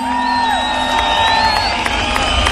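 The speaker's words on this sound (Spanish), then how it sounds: "A ver, que se oiga ese aplauso con mucho cariño." A large live-concert crowd cheers, whoops and applauds continuously in a loud, dense wash, with a steady musical tone lingering underneath.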